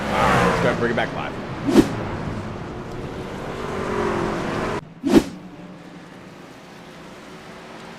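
Racing trucks at a Las Vegas charity truck race roar past in two sharp, loud bursts a few seconds apart, over a constant engine drone and a commentator's talk.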